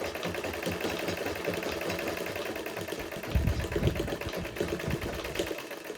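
A sewing machine backstitching fabric for a basic bodice, its needle running in a fast steady mechanical chatter close by, with a slightly heavier rumbling stretch midway.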